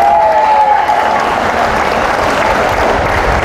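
Sustained applause from a church congregation in Cupang, Muntinlupa, with many hands clapping in a thick, even roar. A faint thin tone sits briefly at the start, and the clapping stays loud and constant throughout.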